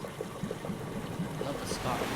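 A water stream flows in the video game Myst, a soft steady trickle and wash at low level with faint clicks and movement over it.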